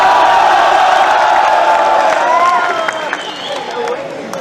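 A Hindi hasya kavi sammelan audience claps and cheers, loud and dense at first, then thinning out with scattered voices underneath.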